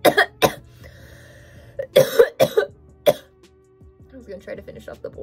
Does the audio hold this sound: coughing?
yes